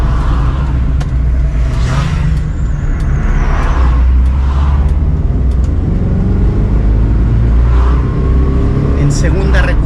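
An older Citroen GS with a four-speed gearbox accelerates onto a road from a yield, its engine note rising from inside the cabin while someone talks over it.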